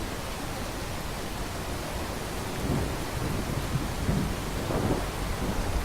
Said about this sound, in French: J'espère que c'est pas un orage radioactif et que c'est juste de la simple pluie.